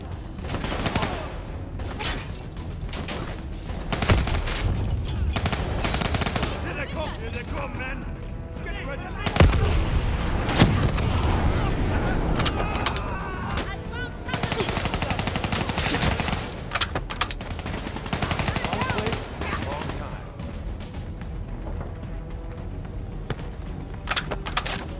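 Sustained automatic gunfire from a machine gunner in Call of Duty: Black Ops III, dense bursts of rapid shots rolling across the whole stretch with louder peaks, mixed with game effects and a voice shouting.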